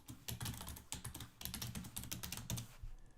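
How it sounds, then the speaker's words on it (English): A MySQL password is typed on a computer keyboard during a database login on an Ubuntu server, making rapid, close key clicks in quick bursts and stopping briefly near the end. "we're going to use a password to authenticate. So we'll have to enter in our password."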